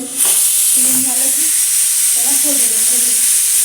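Loud, steady sizzling of a tempering of tomato, curry leaves, green chillies and peanuts frying in hot oil fills the clip while a person talks over it.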